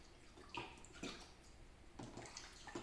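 Water is poured from one cup into another in a few separate splashy bursts, about one every half second to second, over a faint steady background.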